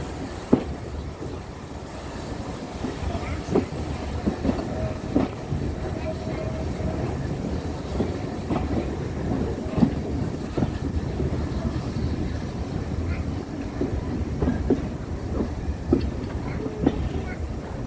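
A 4F steam train travelling from Haworth rolls along the rails, with continuous carriage rumble and rhythmic clickety-clack wheel beats heard from on board, steady and moderately loud throughout.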